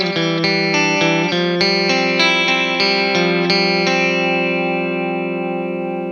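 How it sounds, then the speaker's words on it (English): An electric guitar run through a compressor plugin on a Universal Audio Apollo home-recording setup plays a quick series of evenly attacked notes, then rings out with long, level sustain, carrying a chorus-like, slightly distorted effects sheen. "Compressor on."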